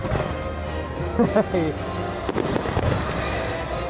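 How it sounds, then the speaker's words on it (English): Fireworks at Epcot pop and crackle at a distance while people talk nearby and music plays faintly in the background. "As we're leaving, the fireworks are going off right now."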